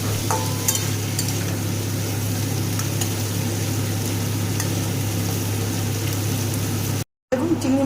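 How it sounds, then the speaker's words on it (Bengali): Prawns rubbed with salt and turmeric fry in hot oil with a steady, close crackling sizzle that runs throughout, broken by a brief cut near the end. "তেল গরম হয়ে গিয়েছে, এবারে চিংড়ি মাছটাকে ভেজে তুলে নেব।"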